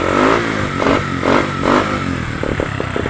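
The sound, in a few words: Bajaj CT 100 motorcycle engine revving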